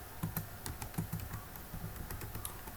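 A computer keyboard is typed on at a quiet, close-up level, with quick bursts of clicking keystrokes and short irregular pauses while entering data in Excel.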